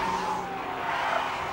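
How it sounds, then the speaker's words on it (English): A flattened Ford SUV, its tires shredded by a police spike strip, rumbles along the interstate riding on two tires, giving a steady, rough roar of road and engine noise with a gritty scraping edge and no talk. "Incredibly, the flattened Ford rumbles back onto the interstate."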